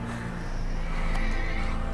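A horse gives a loud, close neigh that carries through the whole short moment, with faint hoof clip-clop beneath it.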